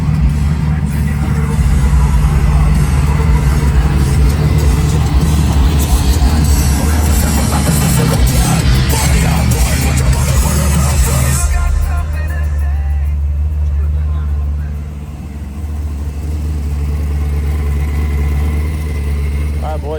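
A Can-Am off-road vehicle rolls in with a loud, rough engine drone, then the din eases and the motor settles into a quieter idle.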